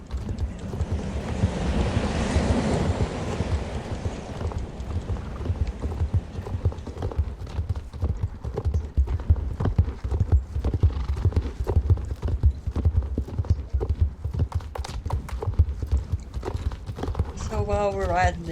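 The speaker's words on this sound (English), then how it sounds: "So while we're riding this long journey," Steady clip-clop of horse hooves riding at an even gait in the online game Star Stable Online, with waves and wind in the background, a trailing voice at the start and a short musical chime near the end.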